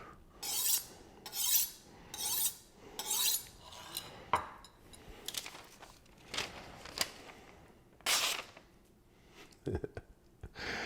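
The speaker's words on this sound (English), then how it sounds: "that is how you use our honing rod" A kitchen knife is drawn along a steel honing rod in quick repeated bright rasping strokes, several in a burst and then a few more spaced out, fairly close, with a little talk between them.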